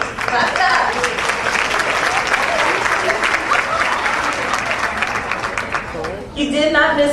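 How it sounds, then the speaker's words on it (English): Loud, continuous audience applause at a luncheon honoring women, dense and close, which breaks off near the end as a voice begins speaking. "Clap it up."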